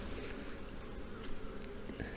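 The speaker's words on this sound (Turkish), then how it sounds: "Arı uçuşta." Honeybees flying around an open hive on a fine day in late autumn, a continuous close buzzing hum with individual bees droning past.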